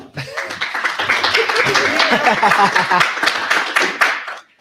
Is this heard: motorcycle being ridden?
no